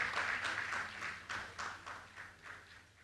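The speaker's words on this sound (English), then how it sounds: "Let's welcome him with a round of applause" An audience at a panel discussion applauds to welcome a speaker, a fairly dense spread of clapping that fades gradually over a few seconds, heard from a slight distance in the hall.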